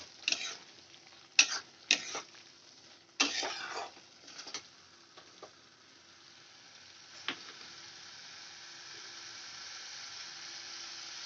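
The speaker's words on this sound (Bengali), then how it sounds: "দিয়ে ভালো করে আলুর সঙ্গে মশলাটা কষিয়ে নেব।" Pre-fried potatoes and spices are stirred in a pan for a katla fish curry: a few sharp scrapes and knocks early on, then a soft, low sizzle hissing quietly on its own.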